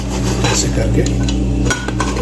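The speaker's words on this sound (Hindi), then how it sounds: "अभी कुकर को मैं कवर कर देता हूँ" The metal lid of a pressure cooker is set in place and tightened over pumpkin and mutton curry, with clinking and scraping knocks close up over a steady low hum.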